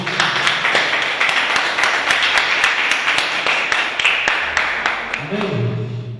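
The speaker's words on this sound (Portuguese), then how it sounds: "Vamos aplaudir nosso Senhor." A church congregation claps steadily through an evening worship service in Ouro Preto, Minas Gerais, with dense, sustained applause that fills the room and a voice and low tones rising near the end.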